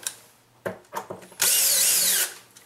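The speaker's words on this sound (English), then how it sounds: "I'm going to use my cordless drill because it's quicker." A few soft clicks and knocks, then a cordless drill driving a screw whirs in one steady burst for about a second before winding down.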